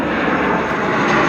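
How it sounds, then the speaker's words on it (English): A fixed-wing airplane passes overhead, a steady broadband engine drone with no break, heard outdoors without talk. "airplane"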